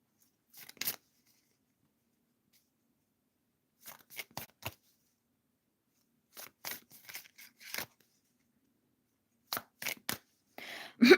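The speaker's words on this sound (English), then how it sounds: "let's shuffle some cards for Sarika." Tarot cards being shuffled in quick riffling bursts, four separate clusters of crisp papery flutters split by silent pauses, close and fairly quiet.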